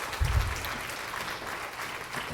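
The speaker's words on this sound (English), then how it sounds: "All right, so give our panel a round of applause." An audience claps for a panel at a county systems leaders roundtable, a steady, fairly faint wash of applause with a brief heavier burst near the start and no clear voices.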